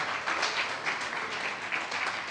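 A church congregation claps together in a brief, steady wash of applause, fairly even and moderately loud, with no voice above it.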